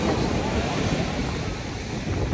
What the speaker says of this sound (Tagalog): Ito yung dagat guys, kaso sobrang maalon lang talaga siya.